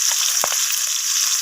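Small shrimp frying in a pan, a loud close bright sizzle of hot oil throughout, punctuated by a couple of soft stirring knocks, with no speech.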